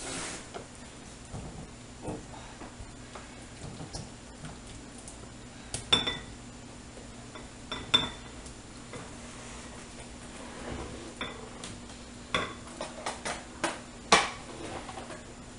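Dishes and cutlery clink intermittently as Angus meatballs in a creamy sauce are served into a bowl, with scattered sharp taps and chinks over a steady low background hum and no talking.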